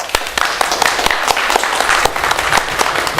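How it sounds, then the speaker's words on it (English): Audience applause at a university debate on masculinity at UCL, a loud, close burst of many hands clapping with sharp individual claps standing out, sustained throughout. "Round of applause."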